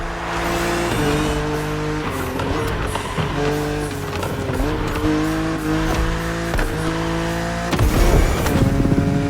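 A BMW Z4 E89 coupe cabriolet drives in The Crew Motorfest, its engine revving up and dropping repeatedly through gear changes, with loud steady engine drone and occasional tire noise.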